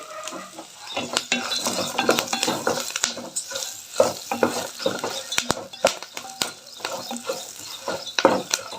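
Ingredients for Rayalaseema-style okra chutney sizzle in a pan while a metal spoon stirs and scrapes repeatedly, making close, uneven clinks and scraping strokes over a continuous frying hiss.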